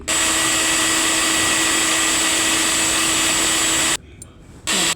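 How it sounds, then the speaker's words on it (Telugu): A mixer grinder whirs loudly and steadily for several seconds, then cuts off abruptly before a brief second burst, while grinding ingredients for a jantikalu dough made with moong dal and butter. "ఇలా మిక్సీ చేసుకోవాలి"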